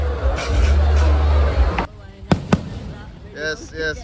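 A crackling burst of firecrackers in Wayanad for a couple of seconds, then two sharp bangs, followed by voices talking nearby.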